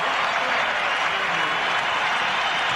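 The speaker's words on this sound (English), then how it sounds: "the crowd is into it" Steady, dense applause from a basketball arena crowd at a 2003 playoff game between the Lakers and Timberwolves, a continuous wash of clapping with a faint murmur of voices underneath.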